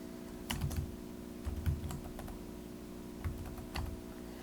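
Keys clatter on a computer keyboard as text goes into a Word table cell, in four short bursts of quick clicks separated by brief pauses, close and fairly quiet over a steady background hum.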